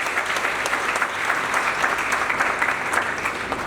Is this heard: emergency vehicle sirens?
no